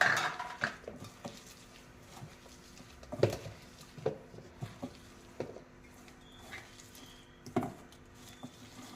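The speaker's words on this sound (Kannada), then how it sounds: "ಓಂಕಾಳು ಇಷ್ಟನ್ನು ಹಾಕಿ ಚೆನ್ನಾಗಿ ಕಲಸಿ" Maddur vada dough being mixed by hand in a bowl with coriander leaves, curry leaves, white sesame seeds and carom seeds, giving soft squishing and patting with occasional light clinks against the dish, close and steady, no talking.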